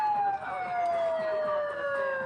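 A siren played by a protester outside an ICE detention center, a steady wailing tone held loud and near, with faint voices in the background.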